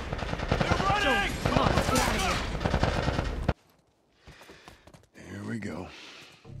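Rapid bursts of gunfire from The Last of Us Part 1 video game, dense and loud for several seconds alongside shouting voices, then cutting off to quieter scattered sounds and a final sharp burst.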